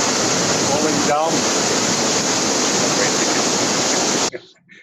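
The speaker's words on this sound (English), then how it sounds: "below me is a huge crevice in which the glacier water is falling down" Glacier meltwater pours into a deep crevice below a ridge in the Pangi Valley, heard as a loud, steady broadband rush of falling water that stops abruptly near the end.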